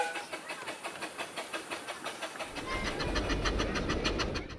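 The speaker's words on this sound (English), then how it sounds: "A smart little blue engine rounds the corner, a happily laden train following behind" A small blue steam engine pulling a laden train through bespoke gardens puffs in a quick regular rhythm, fairly faint at first, then grows closer and louder as heavy rumbling and rolling wheels join in.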